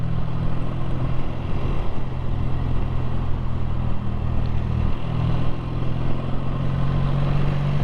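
A 650 cc BSA A10 motorcycle engine runs smoothly at a steady, low, throbbing idle, heard close and loud, without pauses.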